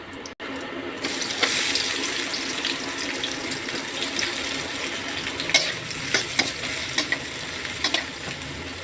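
Onions and garam masala fry in mustard oil for a spicy chicken curry, a steady hiss and crackle running throughout with a few sharp clinks of stirring near the end; no one speaks.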